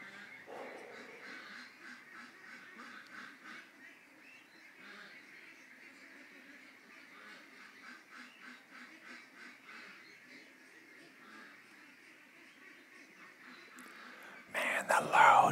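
Ducks in a yard quack and chatter at a low, steady level throughout, with a sudden louder burst of noise at the very end.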